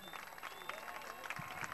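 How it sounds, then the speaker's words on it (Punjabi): Crowd applause at a 2013 kabaddi tournament match in Moga, a steady wash of clapping from spectators with voices mixed in throughout. "ਤਾਲੀ ਮਾਰ ਦਿਓ ਇੱਕ ਵਾਰੀ"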